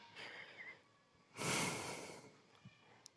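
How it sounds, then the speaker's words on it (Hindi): A single slow, audible breath, a soft rushing inhale and exhale swelling in the middle of a quiet room, with faint background hiss and a small click near the end. "धीरे से सांसों की आवाज को सुनते हुए"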